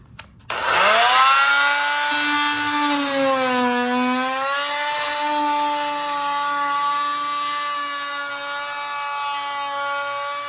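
A power tool cuts a straight line through drywall in a basement, a loud sustained whining tone that rises as it spins up, then holds steady and slowly dips while the blade works through the board.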